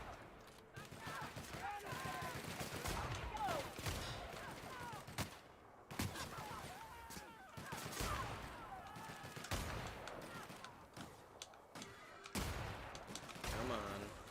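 Gunfire in the video game The Outer Worlds, repeated bursts of shots spread across the clip with in-game sounds between them, fairly quiet overall.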